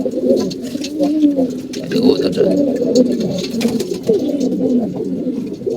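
Male pigeons, including a feather-footed one, coo continuously and close by in a loose, repeating rhythm of throaty warbles.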